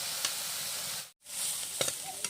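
Kalai greens cooked with prawns being stirred in a frying pan: a steady close sizzle with scraping stirs, a brief drop to near silence midway, then the frying sizzle returns.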